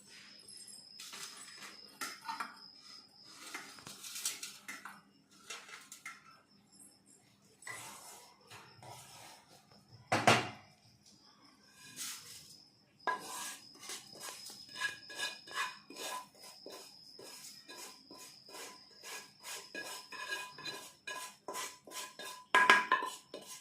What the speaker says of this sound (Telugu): ఇప్పుడు మనం దీన్ని వేరే పాత్రలోకి తీసుకుందాం